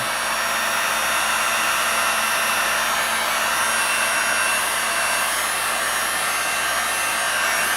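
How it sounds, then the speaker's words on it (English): An adjustable-speed, adjustable-temperature heat gun blows steadily over wet acrylic pour paint thinned with alcohol, a constant loud, airy whoosh running unbroken and alone with no voices. "This is my new heat gun too."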